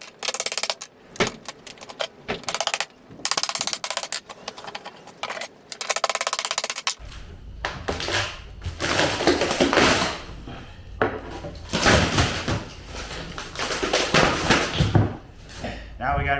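Epoxy river table being pried out of its mold, with scattered knocks and clatters of hard material at first, then a denser stretch of scraping, cracking and thumping handling noise up close.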